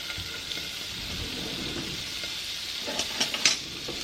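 Butter melting in a skillet for Hawaiian roll French toast, giving a steady close sizzle and hiss with a few sharper crackles and pops near the end.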